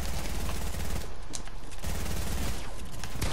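Rapid automatic gunfire in the video game Fortnite rattles in dense, loud, continuous bursts with a brief lull in the middle before the shooting resumes.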